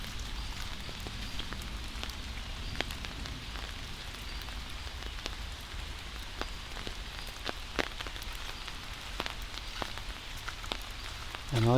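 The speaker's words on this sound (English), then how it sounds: "all you can hear is the sound of Wissahickon Creek down below and the rain" Steady rain patters on leaves and ground in a wooded park valley, with a creek rushing faintly below; sharp individual drops tick throughout, with no voices.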